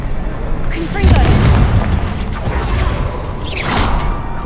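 The Confringo fire blast spell in Hogwarts Legacy goes off with a loud booming burst and whooshing crackle, followed by mechanical creaks and a second swishing effect, with a voice speaking briefly.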